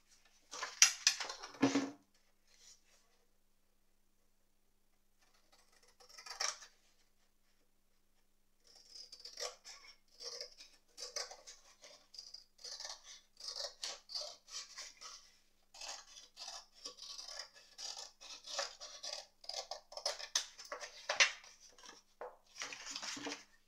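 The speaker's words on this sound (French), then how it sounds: "Donc maintenant, il n'y a plus qu'à couper." Material is cut for a magic wallet craft, dry scissor snips and rasping scrapes in bursts, close and quiet, with several silent gaps and no talk.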